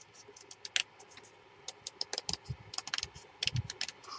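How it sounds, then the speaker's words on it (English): Scissors snip through scraps of paper and card in a crafting session, with a scattering of short, crisp cuts close by in a quiet room and no talk over them. "So we'll snip, snip, snip."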